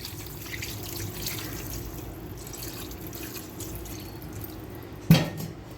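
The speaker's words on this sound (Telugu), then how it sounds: "ఇప్పుడు నేను దీంట్లో వాటర్ పోస్తున్నాను" Water poured into a pot of murrel fish curry soured with raw mango, a soft steady trickle running for several seconds, then a short louder splash or clink near the end.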